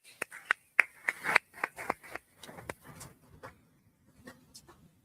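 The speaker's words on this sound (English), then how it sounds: "I just want to have another quick round of applause for all the brave men and women that are here" Applause from an audience at a crime victims' rights recognition event, heard as a scattered series of sharp, uneven hand claps that thin out and fade toward the end rather than a dense, sustained ovation.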